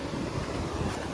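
Sea waves and strong wind at Jhanjhmer beach form a continuous, loud, broadband rush with gusty microphone buffeting and no distinct breaks.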